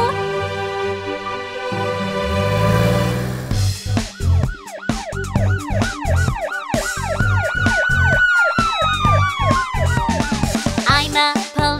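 A loud wailing police car siren in a children's song sweeps up and down in repeated cycles over a rhythmic backing, close and continuous, with no speech.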